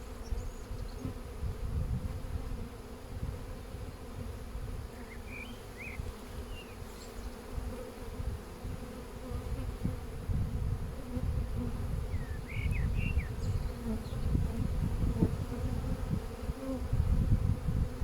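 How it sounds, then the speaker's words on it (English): A honeybee swarm fills the air with a dense, continuous buzz, close and steady, with individual bees flying past now and then over a constant hum. "So there's been already quite a few swarms yesterday and today."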